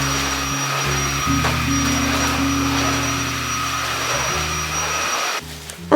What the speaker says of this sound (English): I'm going to start by vacuuming all of the hard floors with my vacuum cleaner